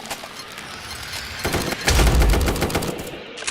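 Gunfire from the 1v1.LOL online shooter game, a dense crackle of rapid shots that builds into a louder, heavier burst toward the middle before easing off, with no talking over it.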